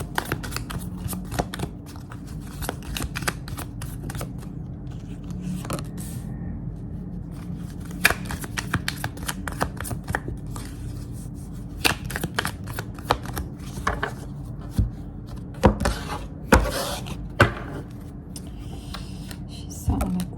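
Tarot-style playing cards being cut and shuffled on a table, soft papery riffles and flicks with occasional sharper snaps, close and fairly quiet over a low background hum.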